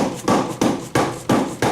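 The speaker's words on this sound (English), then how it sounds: "we can just take a dead blow, just give it a little tap" A dead blow hammer knocks five times in an even rhythm on the water pump cover of a Yamaha Banshee to loosen it. Each blow is a close, dull, solid thud.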